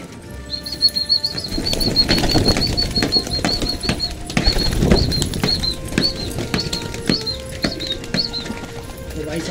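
Pigeons flap their wings in bursts as they fly up onto a rooftop ledge, with close wingbeats and fluttering. A repeated high chirp and light patter continue in the background.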